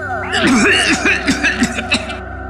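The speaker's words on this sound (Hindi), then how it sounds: "जल्दी से पानी पी रहा था, खांसी आ गई" A person coughs several times in quick, choking bursts after gulping water, close and fairly loud, with a voice straining between coughs.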